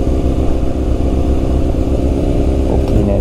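A 1300cc motorcycle rumbles along at a driving school riding course, its engine a steady, loud, close low drone with slight throttle changes throughout.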